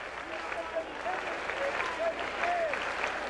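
Fenway Park crowd applauding at a women's baseball game between the Colorado Silver Bullets and Hanscom AFB, a steady wash of clapping and cheering with faint voices mixed in.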